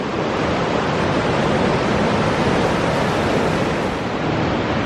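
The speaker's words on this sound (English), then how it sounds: "the tide is coming in and it's dangerous" Loud, continuous surf roars close by on a beach as the tide comes in, waves rushing and washing in with a steady broadband hiss and no pauses.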